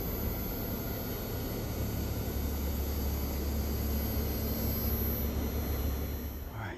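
A brand-new Bosch ductless heat pump, a unit with main control board issues, runs with a loud, steady broadband whoosh of airflow and a low constant hum, unchanging throughout and close by.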